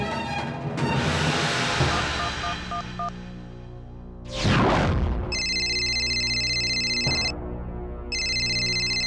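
A phone ringtone sounds in repeated electronic bursts, with a louder burst of noise partway through and music-like tones earlier.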